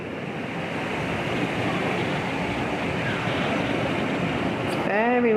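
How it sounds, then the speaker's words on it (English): Strong wind gusts roar steadily during a thunderstorm over the Caribbean Sea, a dense broadband rush that stays loud throughout, with a brief higher-pitched whistle near the end. "It's very windy."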